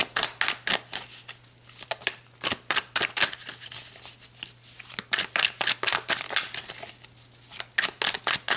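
Tarot cards are shuffled and pulled close by, giving a string of quick, crisp riffling snaps and slaps in uneven bursts with short pauses between them, and no talking.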